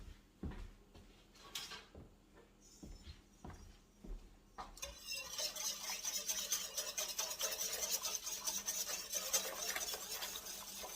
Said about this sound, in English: let me get a whisk, and I'm going to whisk that